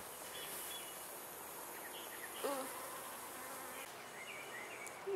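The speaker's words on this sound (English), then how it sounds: "So here's a honeybee up here somewhere." A honeybee pollinating tree flowers outdoors, its faint steady buzz drifting among other insect hum and a few distant bird chirps, with no talking.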